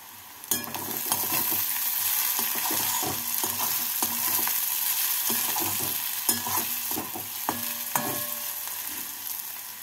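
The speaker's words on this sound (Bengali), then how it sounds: "রসুন কুচি দিয়ে পেঁয়াজের সাথে নাড়াচাড়া" Chopped garlic and onion frying in a pan while being stirred, a continuous close sizzle overlaid with repeated scraping and knocking of the spoon against the pan, no talking.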